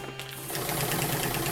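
A sewing machine stitches along a feed bag with a steady, rapid mechanical chatter that starts up and holds close and continuous.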